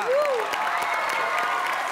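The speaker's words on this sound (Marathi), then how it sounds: "त्याबद्दल जोरदार टाळ्या वाजवा" A studio audience on a Marathi comedy show applauds steadily to welcome a guest, a continuous patter of hand claps, with a brief tonal sweep near the start.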